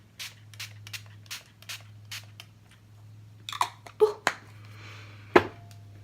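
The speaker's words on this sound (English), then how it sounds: "So I just go in with the Too Faced Peach Mist setting spray. You can use this before and after makeup, so I'm just going to go ahead and spritz my skin." Too Faced Peach Mist setting spray spritzed onto skin in several short, close hissing bursts, each sharp and brief, over a steady low hum with light handling sounds between them.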